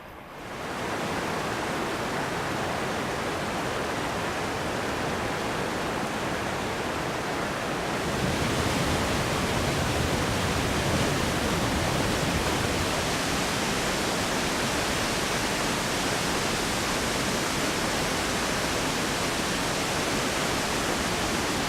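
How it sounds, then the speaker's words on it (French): A steady, dense roar of rushing water from waterfalls over basalt rock, growing louder and fuller partway through and continuing without pause. "donner vie à de tumultueuses cascades"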